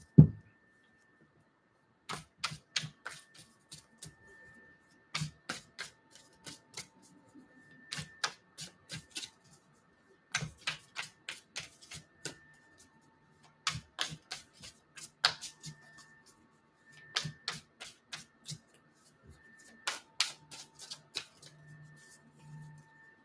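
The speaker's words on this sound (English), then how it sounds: "Cards are all flipping all over the place here." Playing cards flip and shuffle during a live card reading, in repeated bursts of quick, crisp riffling clicks separated by short pauses, close and fairly quiet, with no voices.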